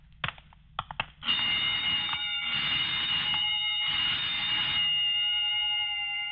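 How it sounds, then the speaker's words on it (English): A burglar alarm under test rings loud and continuous in short pulsing bursts after a few sharp clicks, a steady high electronic tone carrying through a house hallway with no talking over it. "just testing the burglar alarm, I guess"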